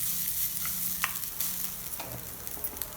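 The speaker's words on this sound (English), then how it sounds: "Now I have taken about 3 to 4 tablespoons of grated coconut and add that also, and just saute it" Grated coconut sautéing in a pan gives a steady soft sizzle, broken by occasional stirring scrapes and clicks, close and moderately quiet.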